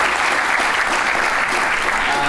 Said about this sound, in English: how about a round of applause for this panel?